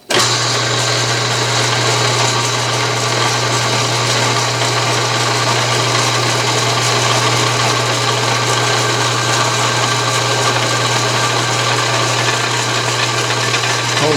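An Atlas/Craftsman 12-inch metal lathe takes a light thread cut, its motor giving a steady, unbroken hum with a low drone throughout and no voices.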